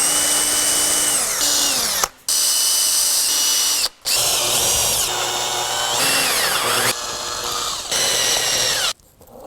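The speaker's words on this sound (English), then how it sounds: "I'm gonna take my drill. We're gonna drill through." Power drill boring through a wooden katana handle, a loud high whining motor in several bursts separated by short pauses, pitch dropping and rising under load, close and without talking.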